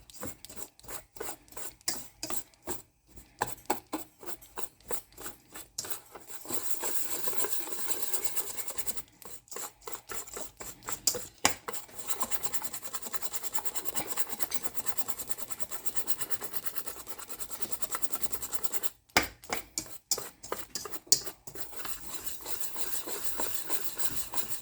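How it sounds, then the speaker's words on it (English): A whisk briskly stirs dry ingredients for almond lemon cookies in a bowl, making fast, steady scraping strokes up close that break off in a few short pauses. "I'm gonna whisk this together really well, break up any clumps and get everything blended evenly"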